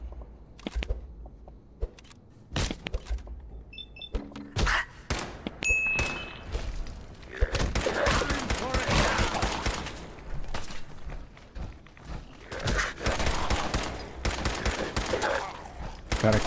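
Gunfire from a weapon in Fallout 4, scattered single shots at first, then dense sustained firing and impacts filling the second half, loud and close.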